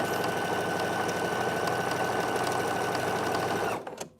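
A sewing machine runs steadily as it stitches the seam of a shift dress, a close, continuous motor whir with rapid needle chatter for nearly four seconds before stopping abruptly.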